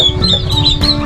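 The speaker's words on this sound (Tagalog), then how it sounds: "Yan po, mga sisiw." Young ducklings peeping in a nest on a small farm, high thin repeated chirps close by over a busy low background of fowl sounds.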